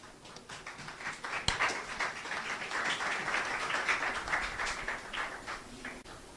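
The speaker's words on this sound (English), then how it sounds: "Could you give us another round of applause for our Custos?" An audience at a Marcus Garvey lecture applauds after a speech, with steady, dense clapping that runs the whole time at moderate, even loudness.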